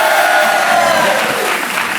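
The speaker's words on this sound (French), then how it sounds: "Applaudissements." A studio audience at a French television talk show applauds, a steady, dense wash of clapping that fills the short stretch without pause.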